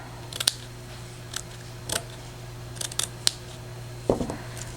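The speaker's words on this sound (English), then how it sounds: "and I'm just going to cut that." Scissors snip through material being trimmed to size for a slow-stitched jewelry piece, a handful of short, crisp cuts spaced irregularly over a few seconds, close and fairly quiet with no talking.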